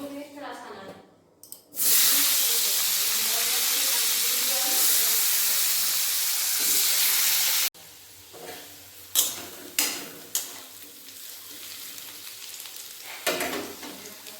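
Potatoes dropped into hot oil in a pan set off a loud, sustained hiss of sizzling for several seconds, which then settles into quieter frying with a few sharp clinks of a spatula.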